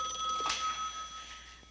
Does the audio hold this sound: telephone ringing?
yes